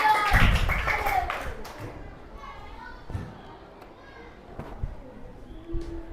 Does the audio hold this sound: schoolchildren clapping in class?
yes